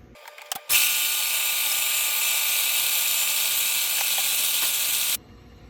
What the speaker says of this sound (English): First things first, mill the flour.